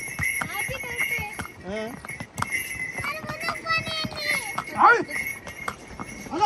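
Horse hooves clip-clop in a steady rhythm close by on the pilgrimage route to Yamunotri, with people talking over them.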